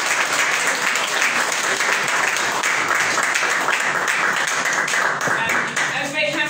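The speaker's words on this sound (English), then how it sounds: "Let's give them another round of applause." A round of applause at a church prayer breakfast, dense continuous clapping from a sizeable crowd that stays loud and even throughout, easing slightly near the end.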